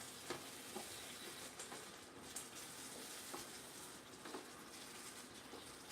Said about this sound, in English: Nice little sizzle going in.